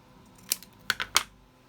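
Scissors cut card tags with three or four crisp, close snips spaced unevenly over a second or so, against a quiet background.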